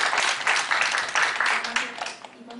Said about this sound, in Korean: 네, 박수 해주십시오.